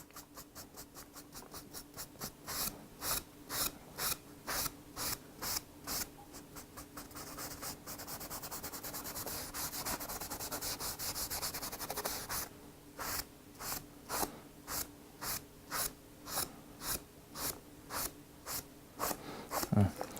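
Wood stain is rubbed onto a wooden surface in quiet, close, rhythmic back-and-forth strokes, with a stretch of continuous rubbing in the middle before the even strokes resume.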